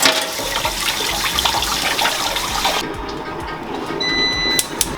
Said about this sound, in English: Alright, wash your broccoli.